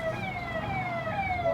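An ambulance siren passing outside wails in long falling tones, loud and continuous, with traffic rumble underneath.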